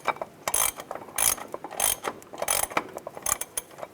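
A ratchet tightens the brake caliper bracket bolts on the front brakes of a 2002-2005 Chevrolet Trailblazer. It sounds like close, repeated bursts of rapid pawl clicking, several strokes separated by short pauses, with no talking.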